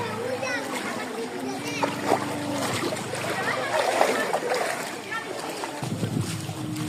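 A boat moves through floodwater in Jagatpur, Bamanpara village, Burichang, Cumilla, with sloshing splashes and a wind-buffeted rush running throughout while people, including a child, talk.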